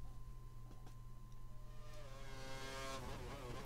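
An F1 car engine on a flying lap at the Malaysia qualifying in F1 2013 drones steadily at a moderate level, then revs up sharply with a rising whine near the end.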